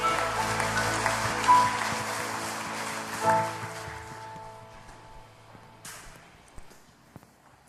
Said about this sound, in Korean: 세상 가운데 위대하신 주님 앞에 우리 박수를 한번 크게 영광 돌리겠습니다.